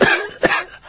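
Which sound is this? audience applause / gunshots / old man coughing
old man coughing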